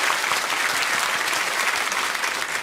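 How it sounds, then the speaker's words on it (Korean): A church congregation at an early-morning revival service gives a warm, continuous round of applause, close and full, with no talking over it. "다시 한번 뜨거운 박수로 격려하고 축복해 주시기 바랍니다"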